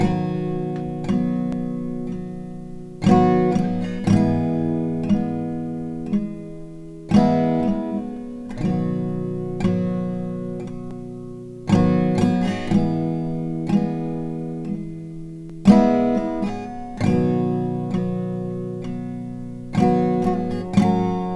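Strummed acoustic guitar plays a song's chorus, steady downstrokes ringing through simple open-chord changes back to G, moderately loud and alone.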